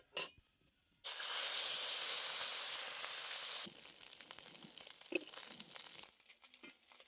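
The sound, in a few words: mourala fish frying in mustard oil in a wok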